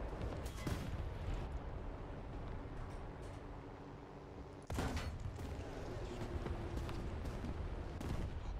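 A bomb goes off in a tank video game featuring the Panzerbefehlswagen VI P Tiger with its 200mm gun, a sudden loud blast breaking through steady rumbling engine and battle noise, with more sharp impacts after it.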